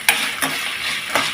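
Chana dal, peanuts, mustard seeds and cumin frying in a pan, a soft sizzle under a few sharp clinks and scrapes of a spoon stirring against the metal.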